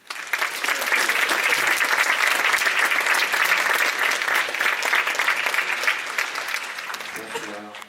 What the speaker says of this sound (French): Donc vous pouvez l'applaudir, Jérôme Vidal.